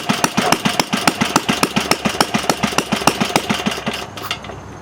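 A Briggs engine with a glass head runs rough on one cylinder, firing in a steady, loud, pulsing chug close up. The beat slows and fades as it nears the end.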